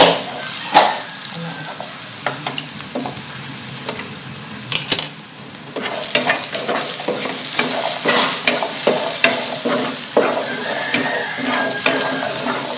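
Vegetables for chicken menudo sauté in a pan with a loud continuous sizzle, broken by repeated clattering scrapes of a utensil stirring them, close up and without talk.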